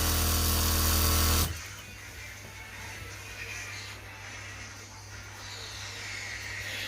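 An electric sewing machine stitches trouser fabric with a loud, steady motor whir for about a second and a half, then stops, leaving a quiet room hum.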